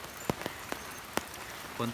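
Steady rain falling in windy, stormy weather, a constant dense hiss with a few sharper drop hits, and a brief voice near the end.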